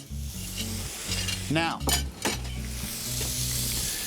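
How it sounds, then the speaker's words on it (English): A striploin steak sizzles steadily on a hot grill, joined by a few sharp utensil clinks, while a voice speaks briefly. "I would have liked a hint more of a sizzle on there."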